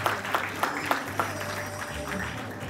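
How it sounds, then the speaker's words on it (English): Guests at a wedding reception give a scattered round of applause with a few sharp, distinct claps over low background hum and murmur, moderately loud throughout. "let's give Mama a round of applause too."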